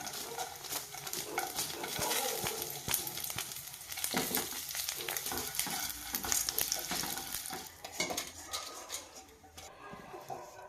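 Coriander seeds, cumin, dried red chilies and urad dal frying in hot oil, a dense continuous sizzle with frequent spoon scrapes and clatter against the pan, close and loud throughout.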